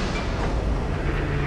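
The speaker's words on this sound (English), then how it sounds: "tram service processing" Tram arriving in the video game Dead Space 3, a loud, steady mechanical rumble and rattle of rail transport filling the short moment without pause.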